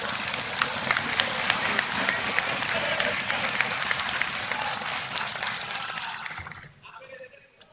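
Members of parliament in a debating chamber break into loud, dense applause, sustained crowd clapping that tapers off toward the end as a voice begins.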